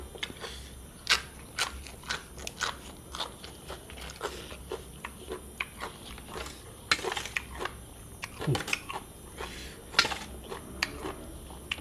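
Crunchy vegetables eaten with a spicy Isan tam sua noodle salad with shrimp are bitten and chewed up close. Sharp, irregular crunches repeat steadily over a faint background hum.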